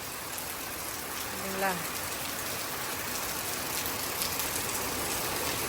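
Evening rain falls steadily and evenly at a moderate, fairly faint level, a continuous hiss, with a short murmur of voice briefly audible in the background.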